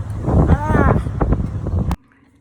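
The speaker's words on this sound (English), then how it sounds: "I am so tired of the wind." Gusty outdoor wind buffets the microphone in a loud, low rumble for about two seconds, then cuts off abruptly into near silence.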